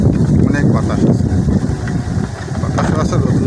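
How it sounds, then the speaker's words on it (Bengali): Strong wind gusts outdoors along an unpaved village path, producing a loud, continuous low rumble of buffeting against the microphone that rises and falls slightly throughout. "অনেক বাতাস আছে,"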